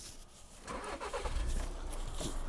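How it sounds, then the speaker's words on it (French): A car engine cranks and catches after being started from a thumb-operated adapter instead of a turned key, in a vehicle adapted for a tetraplegic driver, rising from a quiet cabin into a steady close rumble with no talk. "Donc j'allume la voiture"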